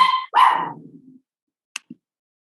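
A dog barks loudly and close by in two quick rough bursts, the second trailing off, followed by a short pause and two faint clicks.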